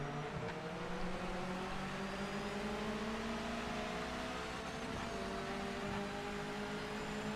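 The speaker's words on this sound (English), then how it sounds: "I can hear the opponent's cars, I think, a little bit too loud." Opponent race cars in the video game Project Motor Racing drone steadily, engine tones layered and overlapping at a moderate, constant level with no talk.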